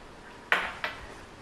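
A spoon knocks twice against a bowl while rose extract is mixed into vegan white chocolate, two sharp clinks about a third of a second apart against a quiet background.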